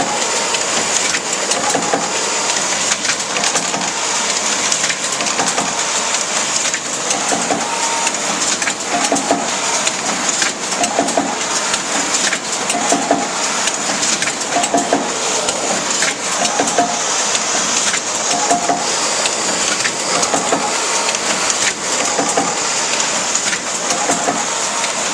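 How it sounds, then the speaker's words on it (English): A Duplo 3500 bookletmaker trimmer cuts a set of booklets, giving a continuous dense mechanical clatter and hiss with repeated rhythmic thumps, loud and steady throughout with no voices. "now that's the trimmer trimming the set"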